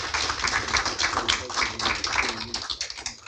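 An audience at a council meeting claps steadily for a few seconds, a dense patter of many hands with some murmuring voices underneath.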